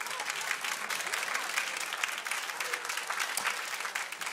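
A church congregation claps together in a dense, steady wash of applause that lasts the whole stretch, with no clear voices rising above it.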